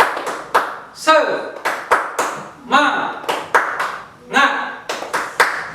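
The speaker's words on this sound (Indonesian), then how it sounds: "Jadi Bapak contohkan dulu ya, tepuk semangatnya ya." A group performs a rhythmic spirit clap (tepuk semangat) in a classroom-style setting, with sharp clustered claps in a patterned beat, some bursts bunched into quick rolls, and voices speaking between them.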